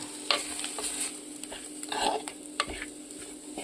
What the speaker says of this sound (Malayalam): ഇത്രയും സാധനങ്ങളാണ് നമ്മൾ ഇതിനകത്ത് ചേർത്ത് നന്നായിട്ട് പച്ചമണം മാറുന്നിടം വരെ ഇതൊന്ന് ഇളക്കി കൊടുക്കാം.